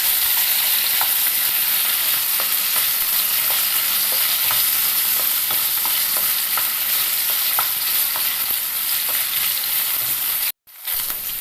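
Potatoes fry in a non-stick pan with a steady bright sizzle, punctuated by regular scraping stirs of a spatula, ending in a brief silence.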